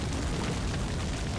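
A bomb hit explodes aboard a ship in the naval video game Battlestations Midway, a loud dense rumbling blast filling the short moment with broadband roar.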